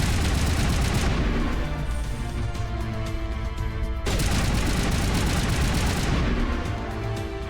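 A continuous, dense roar of rapid gunfire from a Barrage ability in a modded Mass Effect Legendary Edition game on PC, steady and loud throughout, with a sharp renewed burst midway.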